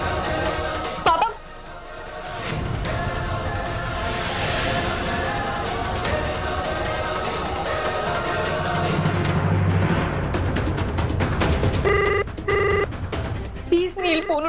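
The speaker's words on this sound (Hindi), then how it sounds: "फोन उठा लो प्लीज।" A telephone rings steadily and fairly loudly through a tense scene in a Hindi TV family drama, with voices and background sounds around the repeated ringing.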